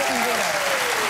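A studio audience applauds loudly and steadily on a live morning talk show, a dense close clapping roar that lasts briefly, with a voice rising over it.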